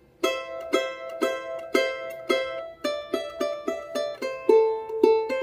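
A charango repeats a plucked phrase from Virgenes del Sol, roughly a dozen crisp notes that quicken toward the middle, played close at moderate volume with no talking.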